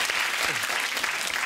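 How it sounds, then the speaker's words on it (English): Studio audience applause at a comedy panel show fills the room, a dense steady patter of many hands clapping at moderate loudness throughout. "That was a very question time applause as well."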